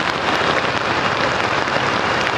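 Heavy rain falls on a Saigon street, a dense, unbroken roar of drops close by with no pauses, loud throughout.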